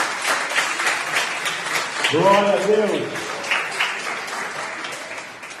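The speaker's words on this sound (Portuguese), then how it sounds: "Você pode aplaudir o Senhor?" A church congregation applauds during a Tuesday worship service, steady clapping from many hands throughout, with a voice speaking briefly over it partway through.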